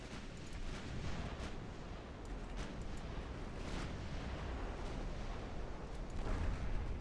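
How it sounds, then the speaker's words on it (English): Naval guns firing in a warship battle in the strategy game Ultimate Admiral Dreadnoughts, a dense continuous rumble of distant artillery and explosions with scattered sharper booms throughout, no voices. "Secondaries, please fire at the light cruisers."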